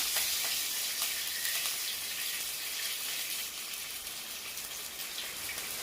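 Curry leaves sizzling and crackling in hot oil after mustard seeds, a loud, steady frying hiss with scattered pops throughout, close up and with no talk.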